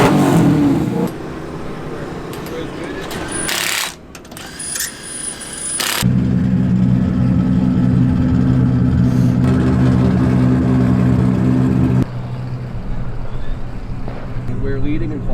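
A drift car's engine revs hard at a drift event, a loud sustained roar that cuts out briefly and then holds a steady high drone before dropping off near the end.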